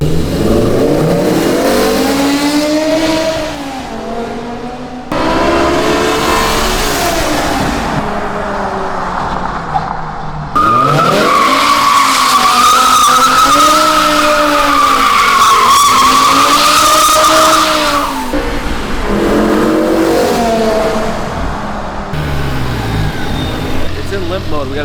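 A 500HP V10 BMW is driven hard, its engine revving up and down in repeated loud sweeps while the tires squeal and skid through several long slides.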